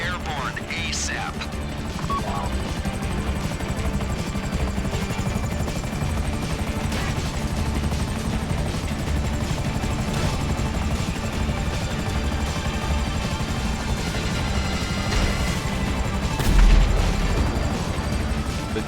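Helicopters in GTA 5's Prison Break heist finale, including enemy Buzzard attack choppers and police helicopters, make a loud, steady rotor drone throughout, with a heavier boom standing out near the end.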